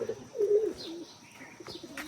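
A few soft pigeon coos sound close by as domestic pigeons eat rice on a farm, with faint chirps and light rustling in between.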